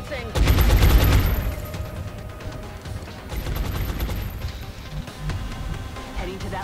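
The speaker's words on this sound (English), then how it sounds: "Put some suppressive fire on him." Suppressive fire in XCOM: The Long War, with a loud, dense burst of rapid automatic gunfire up close, then lighter scattered shots and mechanical clatter trailing off.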